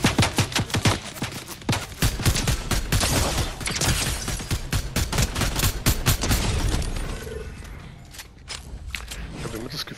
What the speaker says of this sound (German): Ich habe immer das Gefühl, ein paar Schüsse gehen daneben.